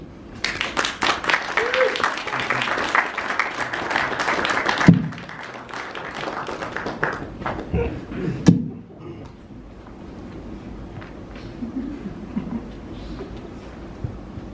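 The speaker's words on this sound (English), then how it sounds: "So please, a round of applause for Kalen Damowski." An audience at the Struga Poetry Festival claps for poetry reader Kalen Damowski, a moderate burst of applause that tapers off after about five seconds, followed by thumps, footsteps and quieter room noise.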